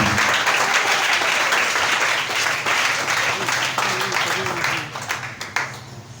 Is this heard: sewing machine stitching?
no